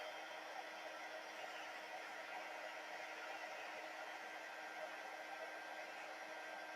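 A heat tool blows a steady, even whir while melting gold embossing powder on a handmade card, a constant airy hum at moderate level throughout with no talking.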